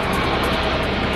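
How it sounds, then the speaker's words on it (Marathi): Fighter jets fly low over a residential area of Vadgaon Khurd in Pune during an air demonstration, heard as a brief, loud, steady engine roar with no voices. "पुण्याच्या वडगाव खुर्द भागात लढाऊ विमानांचं प्रात्यक्षिक."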